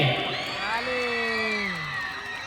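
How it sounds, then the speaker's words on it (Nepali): A crowd at a school cultural program cheers and whoops loudly in sustained rising and falling shouts, close and continuous, with little distinct clapping. "यो प्रस्तुतिको लागि एकपटक जोरदार ताली"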